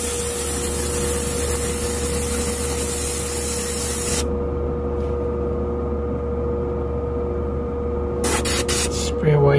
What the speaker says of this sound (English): Really sprays nice and smooth.